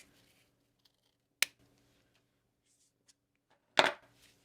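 Scissors snip thick ribbon on a quilted Christmas ornament: two sharp, close cuts about two seconds apart, the second louder and longer, in a quiet room.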